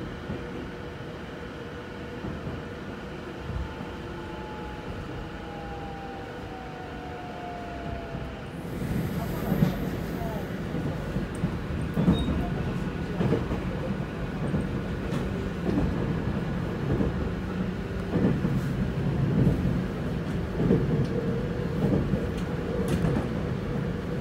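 A train on Japan's JR Gotemba Line rumbles into motion departing Ashigara Station, its low mechanical hum and clatter growing steadily louder as it pulls away, heard from inside the carriage.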